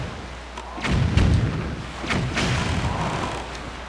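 Cannon fire in The Legend of Zelda: The Wind Waker HD, a few heavy booming thuds in quick succession with rumbling low end over steady game ambience.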